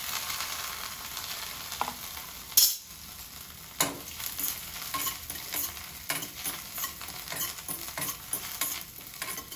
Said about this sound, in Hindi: ब्रेड क्रम्स को तलने के लिए बटर डालेंगे। और इसी में हम ये ब्रेड क्रम्स डाल देंगे।